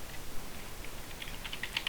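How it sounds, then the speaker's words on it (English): Faint, quick keystrokes on a computer keyboard, a light irregular patter of clicks growing slightly busier toward the end, heard alone with no talking. "So let's type concrete"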